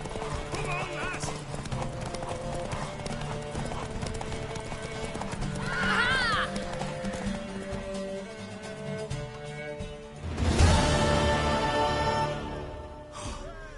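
Horse hooves clip-clop at a gallop with a loud neigh near the end during a horseback race in a PlayStation 4 video game, under game music with voices speaking over it.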